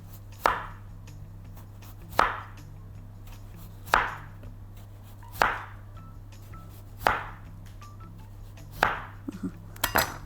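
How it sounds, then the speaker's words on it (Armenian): A knife cuts through potatoes on a board. There are six crisp, close chops at an even, unhurried pace, followed by a few lighter clinks at the end. "Կարտոֆիլը այսպես ենք կտրատելու։"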